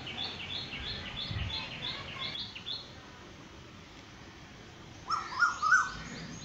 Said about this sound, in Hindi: कोयल की आवाज़ भी सुनें